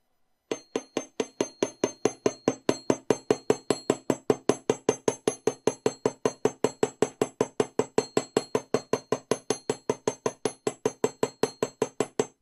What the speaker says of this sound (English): Now we want to hammer over this entire shape.